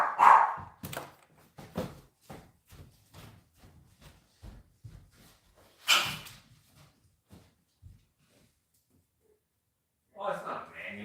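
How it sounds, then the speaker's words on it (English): A dog with a shrill, high-pitched bark lets out a rapid run of sharp barks close by, steady at first, then thinning to a few isolated yaps, with a brief rustle near the end. "bark is so shrill"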